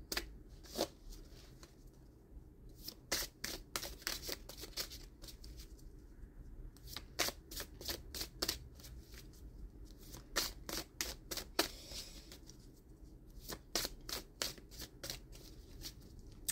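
Oracle cards from a dream oracle deck are shuffled by hand in a quiet room, in repeated short bursts of riffling and flicking separated by brief pauses, with no speech.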